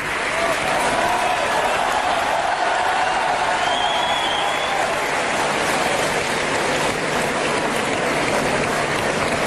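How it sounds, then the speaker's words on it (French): Audience applause at a French political forum, a steady dense wash of clapping from a large crowd lasting the whole stretch, fairly loud and continuous without pauses. "Merci à vous de les avoir tous et toutes applaudis à l'instant."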